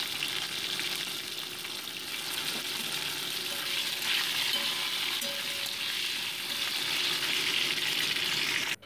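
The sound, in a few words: potato pieces frying in oil with black cumin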